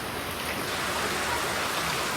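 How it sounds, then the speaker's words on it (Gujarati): Steady rain falling outdoors, a dense even hiss of drops that holds at a constant level throughout, with no voices over it. "વરસાદ તો જોવા પડા છે"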